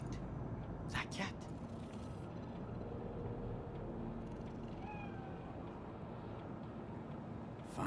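A cat meows in Cyberpunk 2077's Night City, a couple of short mewing cries near the start over a dense, steady city hum, with people talking softly through the scene.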